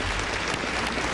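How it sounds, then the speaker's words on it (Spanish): Applause for President Rafael Correa at a political gathering, a dense, steady wash of clapping filling the whole moment at close range with no break. "Un aplauso para nuestro hermano Rafael Correa"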